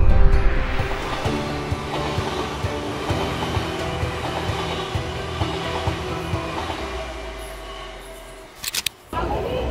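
A metro train ride carries a steady rail rumble with rhythmic clicking of wheels over track joints, loud and close, easing toward the end before a few sharp clatters as the car slows.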